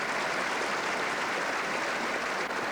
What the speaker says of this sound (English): Philip Chok applauding a superb shot by David Bryant.